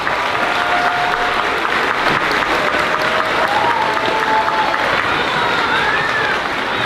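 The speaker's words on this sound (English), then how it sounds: "Let's give all our boys and girls a huge round of applause." Sustained audience applause at a school fifth-grade moving-up ceremony, a loud, even wash of many hands clapping throughout, with faint whistles or cheers rising above it.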